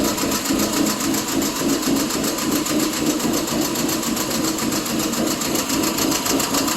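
A 2007 Subaru Impreza engine idles with a lopey, uneven rhythm after warming up, a fast mechanical chatter with a pulsing beat, close and steady, with no voices.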